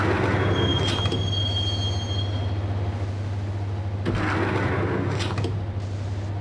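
Subway train from the Max Payne video game riding on rails toward Roscoe Street Station, a steady loud low rumble with bursts of metallic wheel squeal near the start and again around the middle, with no voices.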